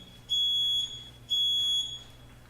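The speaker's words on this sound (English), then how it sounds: "It was the timer." An electronic timer alarm sounds two long, steady, high-pitched beeps of about a second each, loud and close against a quiet hum, with no one speaking.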